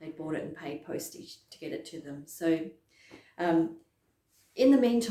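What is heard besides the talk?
No distinct noise like a dog, phone or traffic.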